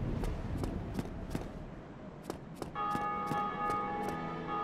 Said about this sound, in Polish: Dzwony przebudzenia.